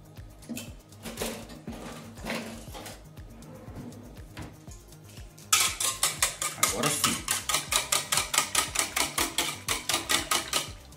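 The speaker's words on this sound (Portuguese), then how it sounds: "Vou pegar um fouet, pessoal" Milk and oil batter whisked briskly in a bowl, the wire whisk clattering in a fast steady rhythm that grows loud and close in the second half, with some kitchen clatter before it.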